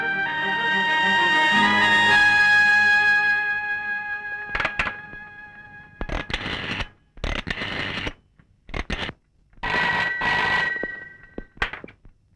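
A telephone rings loudly in repeated bursts with pauses between them while a call goes through to a police station.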